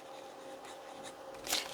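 Fountain pen with a fine nib scratching softly across Kobeha Graphilo A5 notebook paper, a faint close-up rustle of short strokes ending in one slightly louder stroke.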